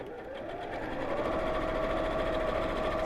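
A sewing machine stitches steadily, its motor whirring with a rapid even chatter that picks up speed and holds, fairly quiet and close, with no talk.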